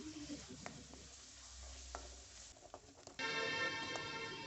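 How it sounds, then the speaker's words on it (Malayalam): Onion, ginger, garlic and green chillies sauté in a pan for a cauliflower potato masala curry, a faint sizzle with scattered stirring knocks that turns into a louder, steadier hiss near the end. "ഇനി എല്ലാം കൂടി ചേർത്ത് വീണ്ടും നന്നായിട്ട് വഴറ്റിയെടുക്കാം."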